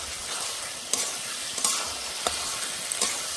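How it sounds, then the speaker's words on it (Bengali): Bottle gourd with prawns and potatoes sautéing in a pan, a steady close-up sizzle broken by a few soft scrapes as the mixture is stirred, with no talk. "আর একটু কষবো।"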